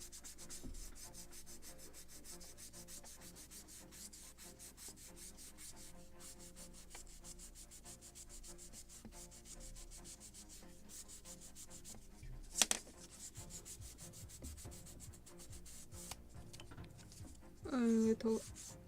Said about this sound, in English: A little Scotch Brite to polish it.